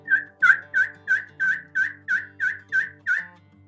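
A run of about ten even, rhythmic turkey yelps, clear and close, made by scratching a friction call's surface with a wooden pencil, no talking.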